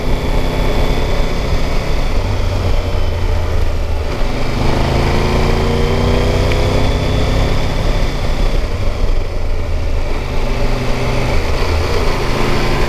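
Triumph Tiger 1200 GT Pro motorcycle riding at speed, a steady loud engine drone and heavy wind roar continuing throughout, with no speech over it.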